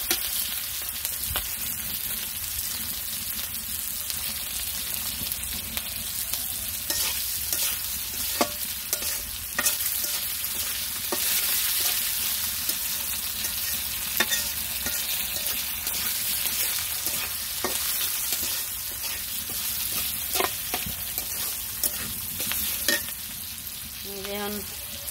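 Vegetables for a vegetarian curry fry in a pan with a constant close sizzle, punctuated by frequent sharp clicks and scrapes of stirring over a long stretch.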